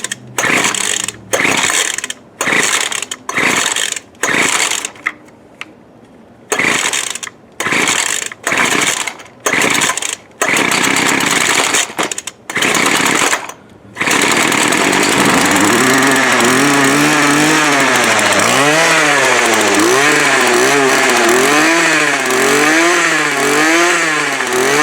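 A Craftsman 17-inch 25cc gas string trimmer sputters through a series of short start-up bursts with brief gaps, then catches and runs continuously, its engine revving up and down in loud, close waves.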